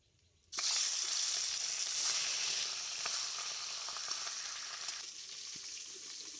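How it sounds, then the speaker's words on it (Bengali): Fish sizzling loudly in hot oil in a kitchen pan, bursting in abruptly and holding a steady bright hiss that eases slightly toward the end, with occasional small crackles. "এবার আমি সব কটা মাছ ভেজে নেব।"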